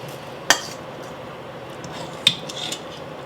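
Metal ladle scooping cooked broccoli out of a pot, two sharp clinks against the rim with faint scraping and stirring in between, in a quiet kitchen.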